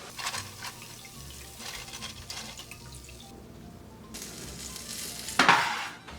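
Homemade tortilla chips fry in hot oil, crackling and sizzling in uneven bursts close by, with a brief louder splash of bubbling near the end.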